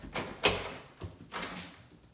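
A door in a house is opened during a walkthrough of a house being flipped, giving a few close handling thumps and brushing sounds.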